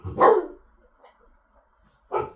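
A pet dog barks indoors, one loud close bark followed by a quiet pause with faint stirring and then a second bark, in a calm room during cross-stitch work.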